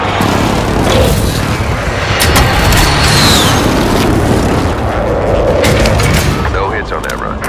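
Air strike explosions in Call of Duty: Modern Warfare rumble continuously as heavy booms and gunfire blend into a loud, dense barrage, with a brief whistling streak overhead and radio-style voices faintly in the mix.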